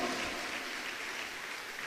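A church congregation applauding during a Sunday prayer service, a dense, even roar of clapping hands that holds steady for a couple of seconds without any voices over it.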